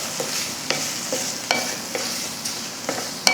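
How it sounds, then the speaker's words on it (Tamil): Grated coconut is stirred and sautéed in a pan for a mutton kulambu, with a regular rhythm of sharp spoon scrapes about every half second over a close, steady sizzle. "நல்லா சாஃப்டாக இந்த மாதிரி வதங்கணும்"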